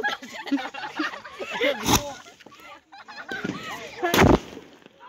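Two loud, sharp blasts from large firecracker bombs on Diwali ring out a couple of seconds apart, each a sudden broadband bang, with people chattering throughout.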